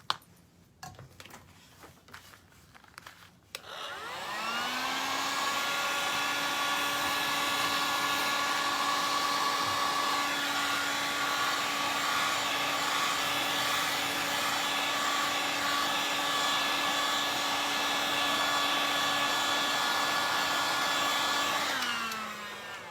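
A heat tool runs steadily for almost twenty seconds, drying a painted outlet switch cover, a loud even whine and airy roar that starts after a few seconds of small handling noises and then cuts off.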